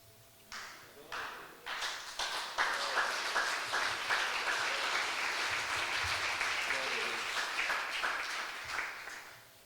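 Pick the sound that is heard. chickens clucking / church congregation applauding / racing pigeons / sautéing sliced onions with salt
church congregation applauding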